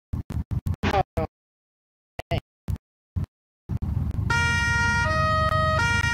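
Police siren of a Cherrier Vivace in BeamNG.Drive switches on after a series of clicks, then wails steadily and loudly in a two-tone pattern with an idling engine underneath.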